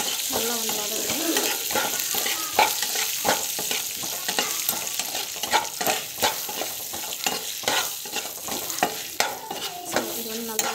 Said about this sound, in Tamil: ஸோ நல்லா வதக்கிடுவோம்.